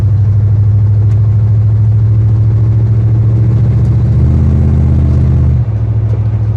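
A 1989 GMC K1500 Trail Master pickup truck on a test drive, its engine droning steadily and loudly from inside the cab, with a deep low rumble that shifts slightly in pitch as the truck moves along.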